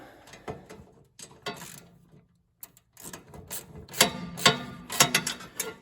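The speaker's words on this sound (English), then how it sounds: "Get the nut started on the back." A locking nut is threaded onto the back of a snowblower shear pin, making close, uneven metallic ratcheting clicks and scrapes with a short pause partway through.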